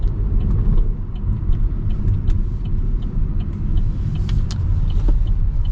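A 2026 Chevy Trailblazer RS with a 3-cylinder turbo engine drives along, giving a low, steady rumble with road noise from inside the cabin and little change in loudness.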